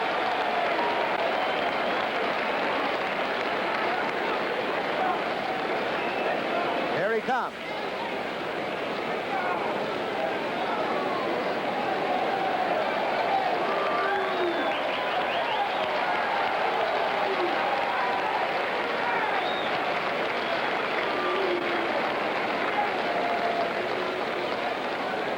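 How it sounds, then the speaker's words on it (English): The grandstand crowd at the 1973 Belmont Stakes applauds as Secretariat comes out onto the track, a broad distant wash of clapping and murmur that runs steadily under a race announcer's voice. "the applause just follows him up"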